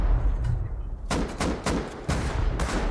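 Rocket launcher blasts and rapid gunfire during a Rust video game raid, several loud sharp bursts in quick succession over a steady noisy background, near and dense with no talk.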